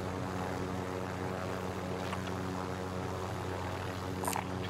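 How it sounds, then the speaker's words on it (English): A helicopter flies nearby in Call of Duty Warzone, giving a loud, continuous rotor and engine drone throughout with a couple of faint clicks near the end and no talk. "Look here. Helicopter."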